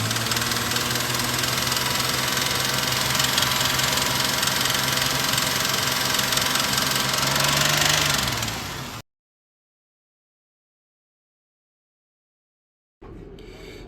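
A car engine idles steadily during a PCV valve test, a close, loud continuous hum with a low droning tone that dips slightly before cutting out abruptly, followed by several seconds of silence and then a return of the running engine.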